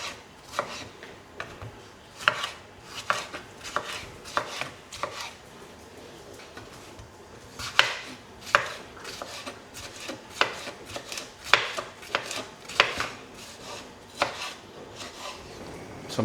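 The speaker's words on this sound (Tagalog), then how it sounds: "Then, cut na rin natin yung ating tomato." A knife cuts a tomato into cubes on a board, giving a series of crisp, close chopping taps in irregular bursts with brief pauses between them.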